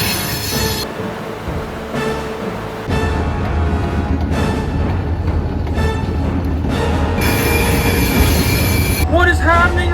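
A heavy train drags to a halt on the rails under dynamic braking, with loud sustained metallic wheel squeal and screeching, grinding and rumbling continuously and building toward the end.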